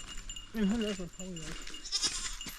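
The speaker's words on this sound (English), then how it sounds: "we got the Nigerian dwarf goats coming with us" A Nigerian dwarf goat bleats with a wavering, nasal cry, followed by a shorter second bleat, amid outdoor background noise.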